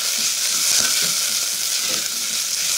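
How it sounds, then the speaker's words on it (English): Onions fry in a pan with a dense, steady sizzle, close and fairly loud, running without a break and joined by faint soft stirring sounds underneath. "I like to cook my onions to a really lovely dark deep brown colour"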